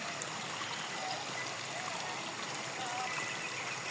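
Water from a stream flows steadily through the whole stretch, a soft, continuous broadband rush heard from nearby and fairly faint, with no distinct talking over it.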